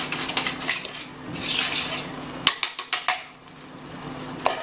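Garlic mashed with salt into a paste using a knife or utensil on a board, heard as close scraping strokes and a run of sharp metallic taps and clinks, with no talk.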